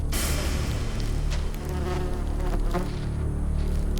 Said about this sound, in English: The Pepsis wasp has what may be the most painful sting in the animal kingdom.